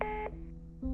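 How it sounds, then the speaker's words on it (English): A phone in the Reverse 1999 video game is abruptly hung up, giving a sharp electronic tone that cuts off, a brief hum, then a second tone starting, all alone and close. "The phone is abruptly hung up"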